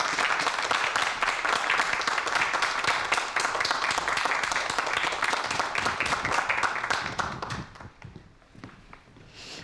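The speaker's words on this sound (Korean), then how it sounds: "박수 부탁드립니다" An audience applauds to welcome a lecture speaker onto the stage, many hands clapping in a loud, crisp, even patter that thins and fades out over the last two seconds.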